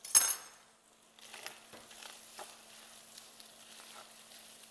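Diced pepperoni browns in a pan with a steady, soft sizzle and faint crackles, after a brief louder clatter at the start; no voices.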